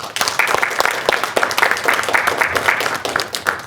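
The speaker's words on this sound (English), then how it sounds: "let's give a round of applause for our panelists" An audience at a panel presentation in Grand Rapids claps for the panelists, a dense, steady round of applause that fills the room for a few seconds.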